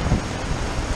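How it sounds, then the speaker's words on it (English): Heavy rain pours down at a boat launch in Florida, a dense, unbroken hiss with a low rumble beneath it, steady and loud over the brief moment. "It is raining again like holy hell."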